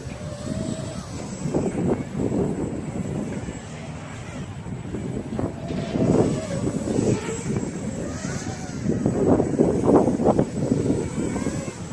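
A Tarot 130 brushless micro quadcopter flies with a buzzing whine that rises and falls, mixed with wind rumble against the microphone.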